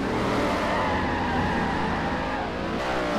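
V8 Supercars launching off the line at a race start in the Forza Motorsport 4 game, a thick wall of engines revving hard together, loud and sustained throughout with no talking.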